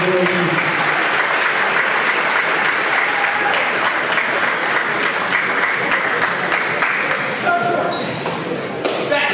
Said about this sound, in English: How about a nice round of applause for all of our seniors?